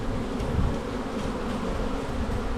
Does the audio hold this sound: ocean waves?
no